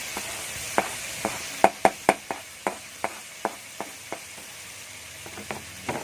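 Lemongrass sizzles in a hot wok with pork ribs during a stir-fry, a steady frying hiss punctuated by a dozen sharp spatula knocks and clacks against the pan, close and clear with no talking.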